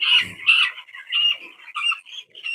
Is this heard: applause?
no